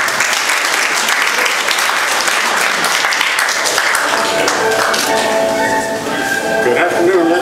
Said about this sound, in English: Roman Morales with a round of applause.